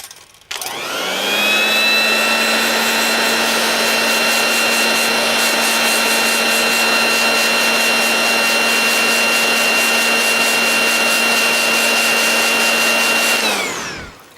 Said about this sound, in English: this heat gun here is extremely hot